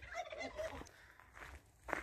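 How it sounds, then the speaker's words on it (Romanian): Turkeys gobble faintly in a quiet countryside farmyard in the village of Hurducești, Romania, their warbling calls rising over soft background noise, with a sharp gobble near the end. "bineînțeles păsări, curcani."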